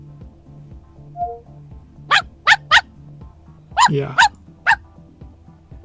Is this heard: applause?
no